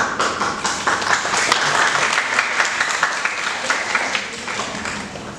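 An audience at a talk breaks into loud, sustained applause, many hands clapping densely and evenly for several seconds before tapering slightly at the end.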